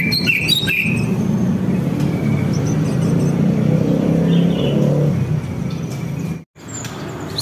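White-rumped shama (murai batu) sings in repeated bright whistles and chirps over a steady low rumble of nearby traffic, with a brief dropout near the end.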